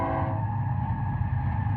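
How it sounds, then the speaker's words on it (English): A train rumbles past out in the desert, a loud, steady low roar with a droning mechanical tone and no gaps, heard alone without voices. "You can hear the train going by."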